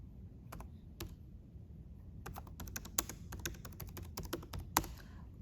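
Quiet, close clicks of a computer keyboard as a command is typed, a few separate key presses followed by a quicker burst of typing over low background hum.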